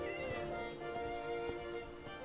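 A cat meows in Minecraft: a short, soft in-game mew over a steady bed of background game music, with no talking.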